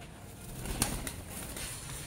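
Pigeons flutter and shuffle close by, with a brief burst of wing flapping and faint soft cooing over a noisy background.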